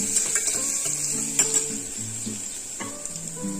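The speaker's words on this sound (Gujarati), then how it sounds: "હવે મેં આદુ લસણની પેસ્ટ લગભગ 3 નંબર કે 2 નંબર પર સાતળું છું" Ginger garlic paste sautés in a pan over low to medium heat, giving a steady sizzling hiss throughout, with soft background music playing underneath.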